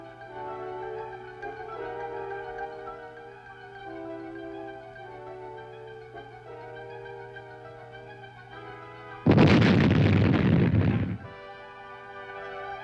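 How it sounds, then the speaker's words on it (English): Plastic explosive demolition charge destroying uncovered land mines in a wartime combat zone, a single loud blast lasting about two seconds, rising abruptly over a steady background drone and then cutting off. "these mines were destroyed by demolition experts using charges of plastic"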